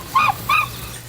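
Guard geese patrolling a prison fence perimeter in São Pedro de Alcântara, Brazil, give two loud, close honks in quick succession over a low steady background hum.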